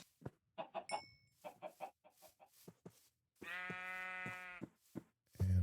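Minecraft sheep from the Better than Wolves mod give a short, harmonic bleat in the middle, set among clicking footsteps and block sounds, with a sharp thud at the very end.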